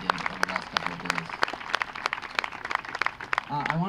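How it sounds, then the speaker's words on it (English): Applause from a modest audience at a college 9/11 remembrance ceremony, scattered claps with a voice speaking over it near the end. "I think we should give them a round of applause for everything that they did over the last couple of days."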